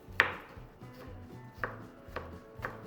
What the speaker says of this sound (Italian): Tagliato finemente il rosmarino, tagliamo l'aglio.